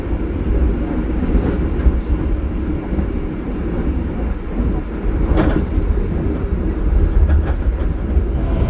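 A KA Gunungjati passenger train passes straight through Cirebon Prujakan station without stopping, heard from inside as a steady loud rumble of wheels on track with faint clicks and rattles, and no talk.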